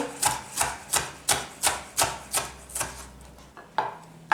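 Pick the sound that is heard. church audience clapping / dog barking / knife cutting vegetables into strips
knife cutting vegetables into strips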